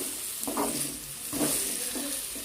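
Masala with ginger paste sizzles softly in a pan, with a few brief scraping stirs breaking through the steady hiss.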